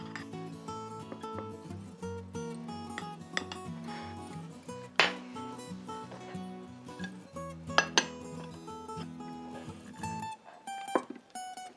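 Shrimp fried rice is spooned and shaped onto a wide serving plate, with repeated clinks and scrapes of metal utensils against dishes and a few sharp ringing knocks, close and irregular, with no talking.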